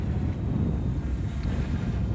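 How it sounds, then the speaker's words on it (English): Loud, continuous wind buffeting a microphone on a flying MJX Bugs 2C drone outdoors, a low roaring rush with no pauses. "I'm getting some wind down here."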